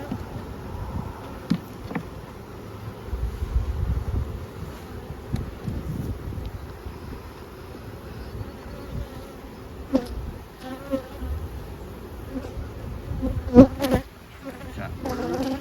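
Honey bees drone in a steady buzz around an open hive full of eggs and capped brood, with light wind rumble against the microphone and a few closer passes from individual bees.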